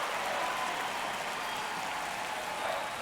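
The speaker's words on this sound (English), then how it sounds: "Crowd locked in right now." In MLB The Show 25, a baseball stadium crowd in a close ninth inning keeps up a steady, moderately loud roar of cheering with no clear peaks, heard alone without commentary.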